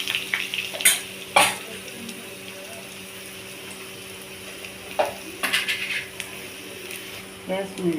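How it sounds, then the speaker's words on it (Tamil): Mustard seeds, cumin and garlic fry in hot oil with a steady low sizzle, broken by a few sharp scraping and stirring clatters of a spoon against the pan. "எண்ணெய் ஊற்றிட்டு கடுகு போட்டு கொஞ்சம் சீரகம் போட்டு பூண்டு கொஞ்சம் போட்டுக்கலாம்"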